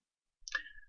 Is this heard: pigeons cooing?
no